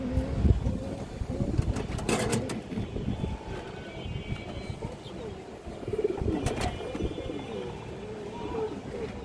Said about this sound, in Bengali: খুব সুন্দর কবুতর মাসাল্লাহ